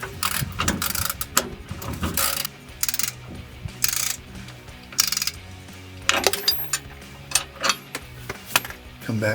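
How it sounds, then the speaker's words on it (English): Ratchet working a Rancho rear shock bolt on a 2007-2018 Silverado/Sierra 1500, heard as repeated close, crisp clicking bursts with metallic clatter and pauses between runs of strokes. "And we thread this back on. Our ratchet."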